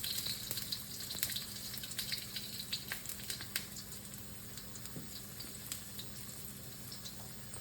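Ginger frying in oil in a wok: a soft, steady sizzle with crackling pops and light stirring clatter, close and fairly quiet, with no talking.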